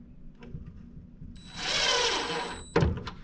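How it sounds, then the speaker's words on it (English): A screw is driven into a small wooden cabinet drawer with a power driver, a steady whirring grind lasting about a second and a half, followed by a sharp knock as it seats, with light handling noises before. "I'm going to just put in a screw just to hold this in for right now."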